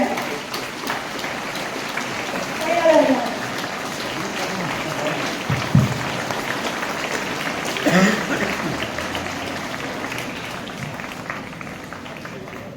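Audience clapping at a school Republic Day celebration, a steady patter of applause running throughout with a few louder swells, while a voice speaks over it.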